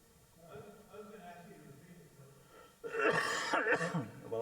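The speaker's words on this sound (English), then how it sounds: "I'm coughing too much to repeat anything right now." A man leading a Bible class coughs in a harsh, loud fit of several rapid coughs, heard close after a stretch of quieter muffled vocal noise.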